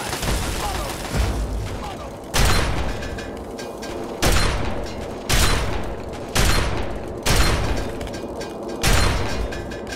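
Repeated loud shotgun blasts in the video game Fallout 3, Operation: Anchorage DLC, fire at a steady pace of about one per second with short decays between shots. A player talks quietly underneath.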